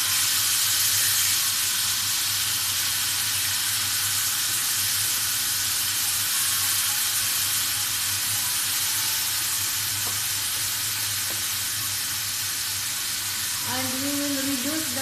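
Chicken pieces sizzling steadily on a hot grill, a loud, dense hiss that carries on throughout, with a couple of faint knocks as pieces are turned and a brief tonal squeal near the end.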